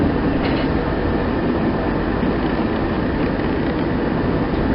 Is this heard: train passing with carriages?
yes